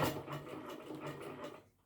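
Sewing machine fitted with a Sure Start foot, stitching steadily as a close, whirring mechanical hum with fast rhythmic ticking that winds down near the end.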